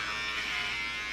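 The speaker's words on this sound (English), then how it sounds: "Can you please shave this part of my head, please?" Electric shaver buzzing steadily as it shaves hair on a person's head, a close, loud, continuous hum with no breaks.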